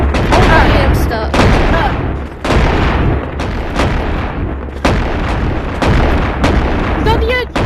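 Shotgun blasts in the VR game Animal Company, a series of loud, heavy booms fired roughly once a second across the clip, each with a short ringing tail, with faint game sounds between shots.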